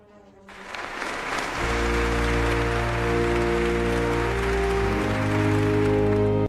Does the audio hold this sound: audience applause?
yes